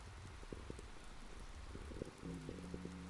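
Steady rain falls in a soft, continuous hiss with faint low rumbles underneath, heard alone without talk.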